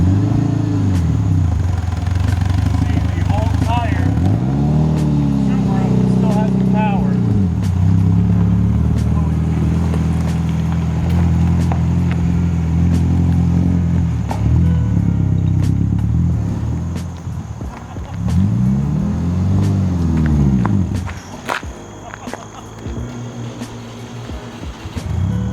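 A $900 Subaru tows a 2015 Jeep JK Willys, the engine droning loudly and steadily with repeated rising and falling revs and some clatter, while people talk over the vehicle noise.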